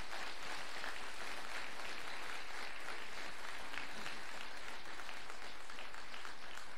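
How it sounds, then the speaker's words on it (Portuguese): A worshipping congregation applauds during a Sunday celebration service, a soft, even wash of many hands clapping throughout, heard at a distance and fairly quiet. "pode aplaudir"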